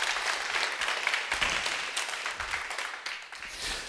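An audience at the second Diaspora Literature Award ceremony bursts into lively, crackling applause, many hands clapping close and loud before tapering slightly toward the end.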